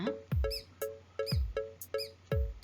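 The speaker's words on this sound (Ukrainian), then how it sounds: "Мишеня." Repeated high-pitched mouse squeaks, about eight short chirps in a fairly steady rhythm, close and clear with a faint background hum.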